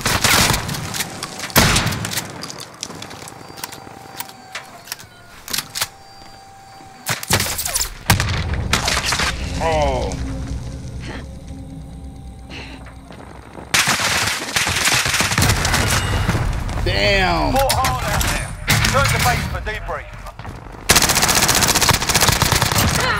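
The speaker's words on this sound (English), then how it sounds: "Enemy sentry gun active." An enemy sentry gun in Call of Duty Warzone fires loud, rapid automatic bursts, the rattling volleys broken by short gaps and mixed with other in-game gunfire and thuds.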